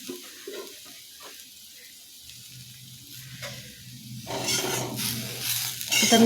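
Cooked okra coated in besan, topped with chopped coriander, being stirred in a pan. Faint scraping and a low sizzle build into louder stirring and frying noise near the end, with no talk.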